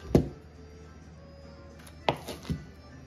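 Knife cutting butter into small pieces on a board, a few crisp close chops, one at the start and a quick cluster of three later, with quiet pauses between.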